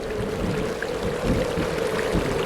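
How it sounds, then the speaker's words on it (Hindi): The Vashishthi river runs in strong flood past a village on a stormy night, giving a steady, dense rushing wash of water that holds even and loud throughout with no voices. "गांव की प्रमुख वशिष्ठी नदी में पानी जोरों से बह रहा है।"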